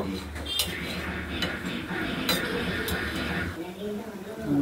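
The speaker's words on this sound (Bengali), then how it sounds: "এবার একটু নাড়াচাড়া করে ঢাকা দিয়ে রাখবো।" A pot of rohu fish curry with potatoes being stirred, with metal scraping and clinking of a spoon against the pan and a few sharp knocks, heard under a person talking.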